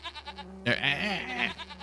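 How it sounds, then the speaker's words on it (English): Goats bleat on a farm in Farming Simulator 25, a few quick soft calls followed by one loud, wavering close bleat lasting nearly a second, with no talk. "So we say 20 of the big goats."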